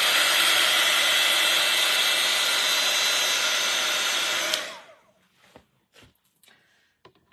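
A hair dryer blows steadily and loudly on a craft piece for several seconds, then switches off and winds down, leaving faint handling noises.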